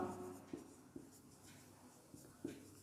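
Chalk or marker writing a triangle centroid formula on a board, a series of soft, faint scratchy taps and strokes spaced irregularly, with quiet room noise between them.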